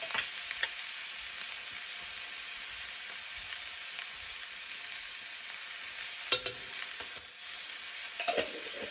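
Vegetables for vegan Mongolian beef fry in a pan with a soft, even, fairly quiet sizzle, marked near the end by a few sharper stirring clatters, without talk.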